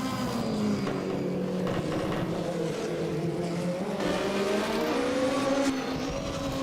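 A Group H race car at the St. Ursanne Les Rangiers European Hill Climb Championship roars steadily, engine pitch rising and shifting as it climbs, loud and continuous with no talk.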